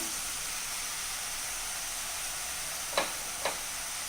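Tomatoes and chicken frying together in a pan for chicken perattu, a steady close sizzle and hiss running throughout, broken by two brief scraping stirs near the end.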